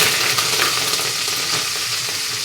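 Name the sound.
mustard seeds spluttering in hot oil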